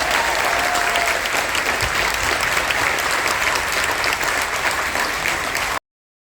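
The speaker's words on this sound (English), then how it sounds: "I need the biggest round of applause" Loud, sustained audience applause in the Encore Theater aboard the Carnival Dream cruise ship during a military appreciation event, a steady wash of many hands clapping that continues unbroken before cutting off suddenly.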